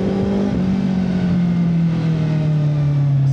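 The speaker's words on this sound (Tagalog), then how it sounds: "Siguro kaya naririnig nila to kahit hindi siya sobrang bulahaw, yung ugong na malalim" A Suzuki Hayabusa 1340cc motorcycle idles with a deep, steady rumbling engine drone, close and continuous, its pitch sagging slowly lower.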